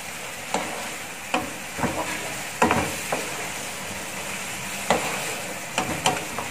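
Beef creamy mushroom being stirred in a frying pan: a soft steady sizzle under irregular scraping and clacking strokes of a utensil against the pan.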